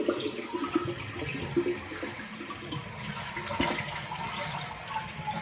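A 1.6-gallon Eljer Canterbury one-piece toilet from the 1990s–2000s flushing on its original parts with the handle held down, a close, rushing swirl of draining water that gives way to tank refilling.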